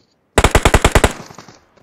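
A short rapid burst of about eight gunshots in a shooting game, loud and close in an even automatic rhythm, then a fading echo tail and silence.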